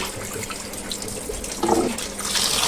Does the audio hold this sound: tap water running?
yes